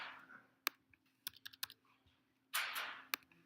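Computer keyboard keys, arrow keys among them, are pressed during spreadsheet work, giving a handful of sharp, close clicks spaced irregularly over a quiet background with a faint steady hum. No speech is heard.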